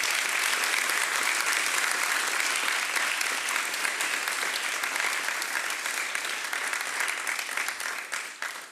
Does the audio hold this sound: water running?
no